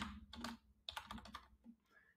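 Someone types login credentials on a computer keyboard in a short burst of quick, uneven keystrokes. The clicks sound soft and close, with a small pause partway through.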